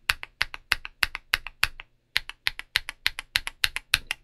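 CIY Naraka linear keyboard switches typed in a steady run of crisp, fairly deep keystrokes, close and loud, with a brief pause midway and no talking.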